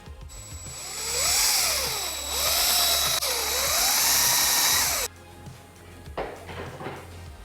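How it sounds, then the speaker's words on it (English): A power drill boring a dowel hole in wood, a loud high whine that swells and dips for about five seconds and then stops, followed by quieter workshop clatter. "So we can drill the other half of our domino hole."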